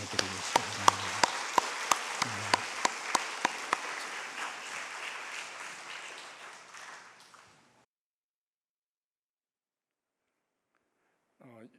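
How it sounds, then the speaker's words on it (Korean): Congregation applauding at a Korean church peace prayer meeting worship service: dense clapping with a few sharp individual claps, steady at first then thinning out and fading to silence after about eight seconds, followed by a brief voice at the end. "우리 저 지체들 위해서 한번 큰 박수 보내드리겠습니다."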